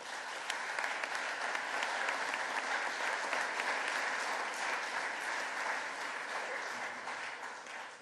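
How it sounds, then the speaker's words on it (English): An audience applauds the panelists at a public event on northern border protection: sustained, dense clapping from many hands at an even level, tapering off slightly at the end. "Let's please give our panelists a round of applause."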